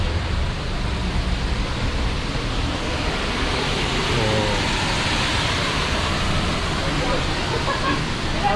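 Düden waterfall in Antalya pouring, a loud, continuous broadband roar of falling water, steady and close throughout with no breaks.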